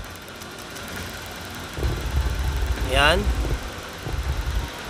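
A Honda Beat scooter engine idling unevenly after a throttle body cleaning, a low rumbling idle that swells and dips in the middle, with a person speaking briefly over it.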